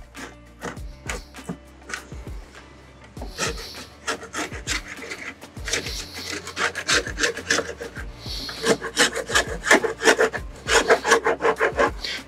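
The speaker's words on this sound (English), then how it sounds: "I'm really trying to scrape stuff and get it" Scraping with a painter's multi-tool during prep work, rhythmic rasping strokes against a surface with repeated scratchy pulls, close and steady, getting denser and louder toward the end.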